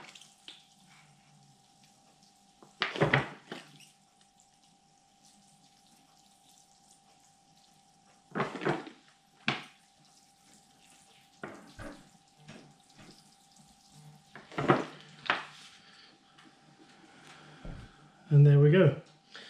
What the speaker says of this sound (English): we'll just give it a bit of a water, just to water that dry